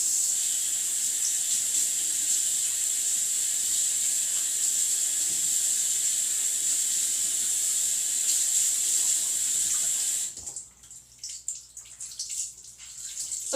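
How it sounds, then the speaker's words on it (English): Running tap water splashes steadily as a face cloth is rinsed out, a continuous close hiss that cuts off abruptly near the end, leaving only faint small sounds. "So I'm going to rinse this out."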